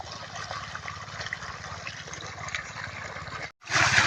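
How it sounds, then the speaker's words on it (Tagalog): Water rushes steadily and forcefully from a hose watering bitter gourd plants, a constant splashing hiss, briefly cutting out before surging back louder. "Ang lakas ng tubig oh."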